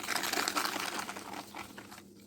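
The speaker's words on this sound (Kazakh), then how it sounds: "Екеуін жақсылап араластырамыз." Two eggs and sugar are mixed by hand in a bowl for cookie dough, making quick, close, rhythmic scraping and swishing strokes that thin out and fade near the end.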